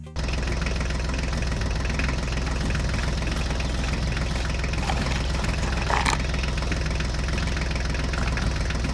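A mini tractor engine runs at a steady idle-like chug, close and loud, with a continuous rumbling throb and no talking over it.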